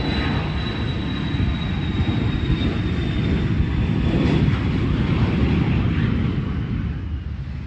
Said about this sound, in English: This Falcon 900 plane was taking off but suddenly canceled the takeoff attempt